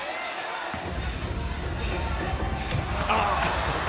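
Crowd at a basketball dunk contest cheering and roaring, a steady broad wash of many voices that swells louder toward the end.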